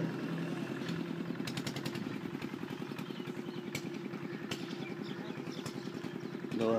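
A 2020 Al Ghazi tractor in new condition idles nearby with a steady low, rhythmic diesel chug and light mechanical clatter, a brief louder burst at the end.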